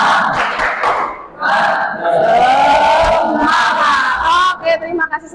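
Indonesian schoolchildren in a classroom chant a loud rhythmic 'tepuk semangat' clapping cheer together, voices shouting in unison with claps mixed in throughout.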